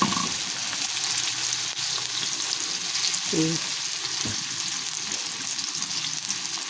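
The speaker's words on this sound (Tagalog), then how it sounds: "Magluto po tayo ng ating snack." A home-cooked snack frying in a pan makes a continuous, moderately loud sizzle with occasional soft stirring sounds and no talk.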